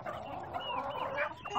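Aseel chickens and roosters cluck on a farm, a short burst of overlapping nearby clucks and squawks.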